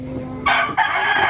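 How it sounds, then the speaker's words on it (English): A rooster crows loudly and close by in a remote Philippine jungle, a single strained call breaking into two bursts. "There's roosters back here."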